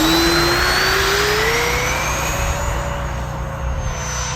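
Freewing Hornet RC jet taking off, a loud, close, steady jet-engine whine with a rising pitch that slowly recedes, alone without voices.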